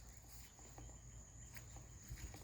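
Crickets chirp in a steady, continuous high trill outdoors at night, faint and unbroken, with a few soft rustles and footsteps nearby.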